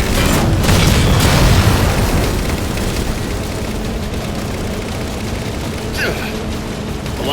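A Covenant Ghost hovercraft explodes during Halo 4 combat, a loud booming blast that rolls into a long rumbling wash of battle noise, with brief radio voices mixed in.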